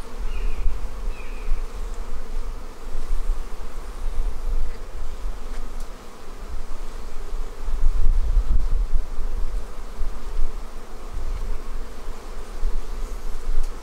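Honey bees swarm around an open small beehive during an inspection, producing a dense, continuous buzzing drone close to the microphone, with low wind rumble underneath and no speech.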